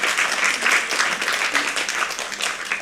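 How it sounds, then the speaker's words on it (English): An audience at a school science slam gives a round of applause for the contestants, a dense, even wash of clapping held at steady volume throughout with no voices over it. "a big round of applause for all the other candidates"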